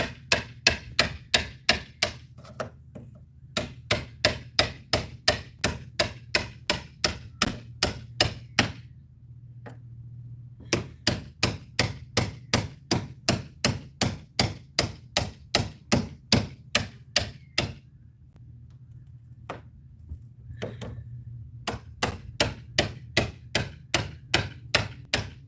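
Hammer blows ring out in long, steady runs of sharp, loud strikes at close range, pausing briefly between bursts, over a low background hum.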